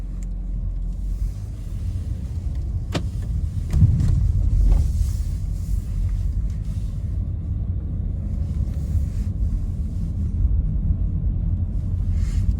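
A Renault Captur Initiale with an EDC automatic gearbox pulls away from rest, its engine making a steady low rumble that swells slightly as it drives off, with no talking.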